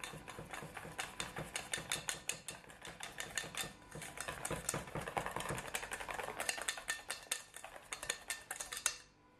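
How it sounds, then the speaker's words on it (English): A whisk clatters rapidly against a bowl while caramelized onion mayonnaise is mixed with paprika and fresh lemon juice, a steady close, loud rhythmic clicking that runs nearly nonstop before stopping at the end. "Give it a whisk."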